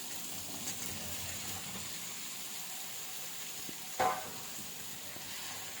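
Cauliflower pieces fry with tomatoes in a pan, a soft, steady low sizzle throughout, broken by one brief stirring scrape near the end.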